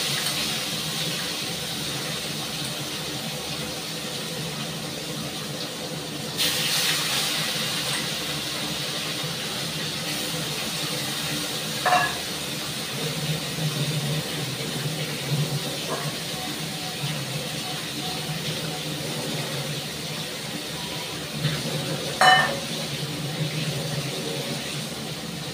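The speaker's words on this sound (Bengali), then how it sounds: "তারপর আমি ভাজা বসিয়ে দিলাম।" Whole pond-raised koi fish, full-sized and not hybrid, fry in hot oil with a steady broadband hiss. A louder surge comes partway through, with a few sharp crackles popping over the sizzle.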